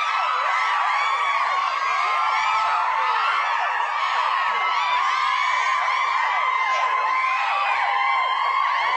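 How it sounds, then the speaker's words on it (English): A crowd cheering sound effect plays, a continuous dense wash of many distant voices whooping and shouting at a steady level for the whole stretch. "Sexy crowd cheer."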